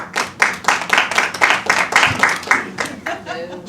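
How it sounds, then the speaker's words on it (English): A brief burst of clapping and cheering from a comedy theater audience during a stand-up show, dense rhythmic claps that fade out after about three seconds as a voice begins. "Round of applause."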